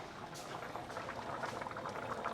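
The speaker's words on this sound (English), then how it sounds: "Now we have to let it bring it up to a boil" Lentils in a pot being brought up to a boil on a stove, with a steady, close bubbling and fizzing that continues without pause and without any talk.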